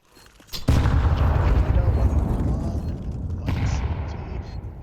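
Heavy bursts of gunfire in Counter-Strike, an AK rifle spamming through smoke, with a loud crack followed by sustained, rumbling rapid fire and a second burst later on.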